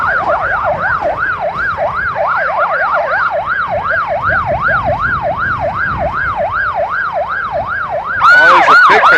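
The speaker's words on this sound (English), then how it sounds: "with the sirens blaring" A loud wailing police siren cycles steadily up and down, close by at a football parade, with a second siren tone joining briefly at the end.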